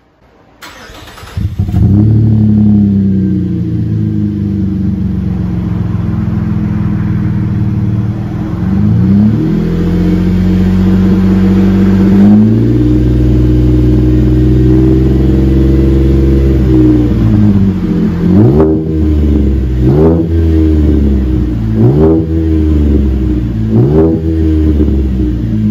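A 2016 Chevy Colorado 3.6L V6 pickup fitted with a Borla Pro XS muffler and rear resonator delete starts up close by, settles into a steady idle, then revs in a long throttle sweep followed by several sharp blips, loud and alone.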